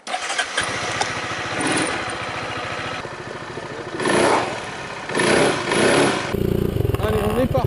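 A Peugeot Metropolis RS 400i scooter (2013, 400cc) starts up and pulls away, the engine catching after a short crank, then steady mid-pitched droning with rises in revs as it rides off, close and loud.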